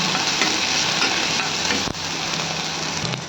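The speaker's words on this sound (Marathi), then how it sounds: "बारीक कट करून घेतलेला जो कांदा आहे तो यामध्ये टाकायचा आहे आणि मिक्स करून घेऊया" Chopped onion with a little turmeric fries in a hot pan for a Marathwada-style curry, a constant loud sizzle with the soft scrape of a spoon stirring through it.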